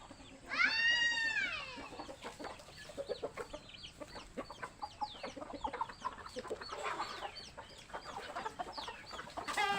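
Several chickens cluck and squawk close by in a backyard with plants, a loud rising call near the start followed by steady scattered clucking throughout.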